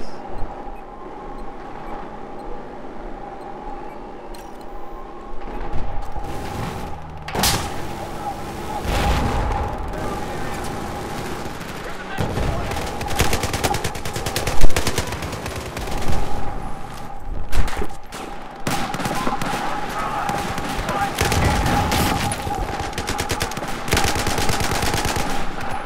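Automatic machine gun fire in a video game battle, dense repeated bursts mixed with other gunfire and blasts, loud and continuous over a busy combat backdrop.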